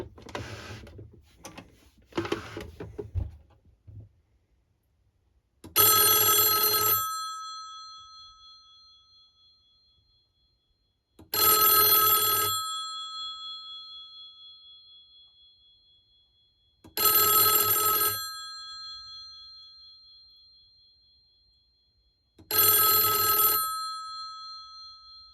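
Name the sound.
ITT 500 telephone bell ringing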